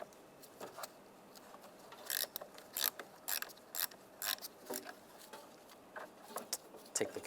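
Close ratcheting clicks in short irregular bursts as a 10mm socket wrench loosens the negative battery terminal nut on a Volkswagen Jetta, faint and mechanical against a quiet background.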